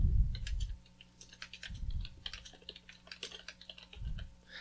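Computer keyboard keys clicking in steady bursts while text is entered in Blender's edit mode, close and fairly quiet, with a low hum and no talk.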